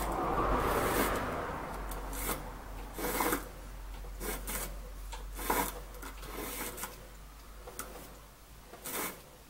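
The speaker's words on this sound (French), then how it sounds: "On entend bien quand ça frotte." A Holzmann NTS250 water sharpening wheel rasps against a tool in irregular scraping bursts, contact coming and going unevenly over a steady low motor hum, close up with no talk.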